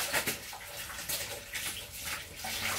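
Laundry being rinsed by hand in a basin at home, with soft, quiet sloshing and splashing of water that rises and falls in gentle surges.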